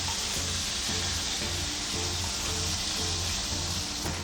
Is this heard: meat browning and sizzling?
yes